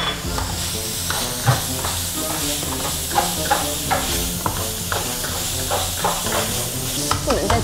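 Tomatoes stir-fried in a home-kitchen pan, a steady loud sizzle with repeated scraping strokes of a spatula in an irregular rhythm, close up, continuous throughout with only faint background voice.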